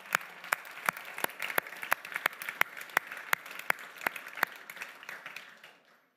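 Rhythmic clapping from a church audience, crisp, evenly spaced claps in unison at a steady beat that grow softer and fade out.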